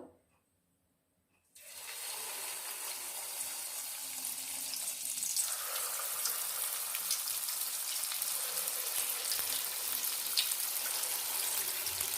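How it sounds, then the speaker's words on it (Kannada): Rice bonda batter, the crisp akki bonda made as a Diwali snack, drops into hot oil and sets off a steady, close, dense sizzle that runs on without a break after a short silence at the start. "ಈಗ ಎಣ್ಣೆ ಕಾದಿದೆ ನೀವು ಕೈಯಲ್ಲಿ ಬೇಕಾದರೂ ಹಾಕ್ಬೋದು ಇಲ್ಲ ಸ್ಕೂ ಸ್ಪೂನ್ ಬಳಸಿ ಸ್ಪೂನಲ್ಲೂ ಹಾಕ್ಕೋಬೋದು"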